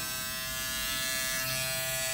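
Wahl Finale foil electric shaver switched on, a steady close buzzing hum with a fine high whir, continuous and unchanging for about two seconds.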